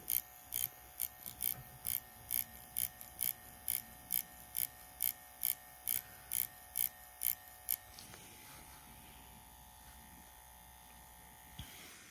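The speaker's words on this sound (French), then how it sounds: "j'ai juste le bout de l'aiguille, hein, qui vient taper la peau" A Dragonhawk tattoo machine with its needle tip tapping on skin, heard as a crisp electric buzz in about fourteen regular short bursts over eight seconds, then a faint steady hum with no speech.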